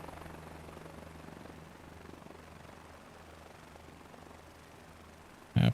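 Microsoft Flight Simulator 2024 helicopter rotor noise runs as a continuous, steady throbbing drone at moderate level, with a brief sharp click at the very end.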